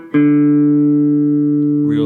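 An electric guitar plays the opening of an intro riff, here one clean sustained note ringing loud and close before a second note starts at the end.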